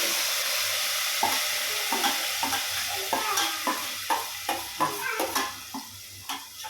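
Ginger-garlic paste is stirred into mutton curry in a pan, a continuous sizzle punctuated by a series of rhythmic spoon scrapes and knocks against the pot, close and fairly loud.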